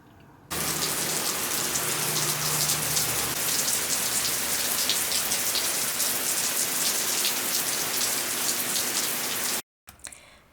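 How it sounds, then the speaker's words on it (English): Steady, dense rain pours down nearby, a loud even hiss lasting about nine seconds before cutting off abruptly, then a brief faint patter. "It is raining again"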